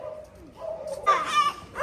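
A dog lets out a couple of short, close barks after a brief whine.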